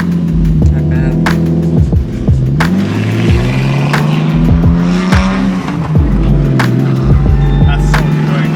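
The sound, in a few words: BMW car driving around the block, shifting gears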